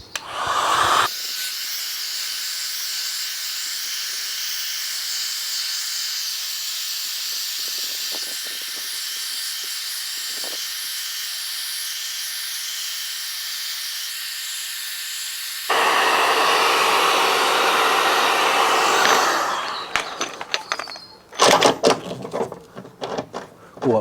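A hot air gun heats the rear body panel of a damaged 2013 Fiat 500 Abarth, blowing a loud steady hiss for about twenty seconds that rises in pitch near the end before giving way to clattering handling noises.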